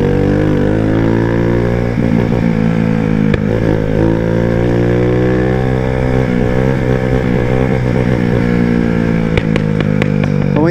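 Brazilian moped (mobilete) engine revving loudly and continuously up close, with a steady buzzing drone and a few sharp exhaust pops near the end.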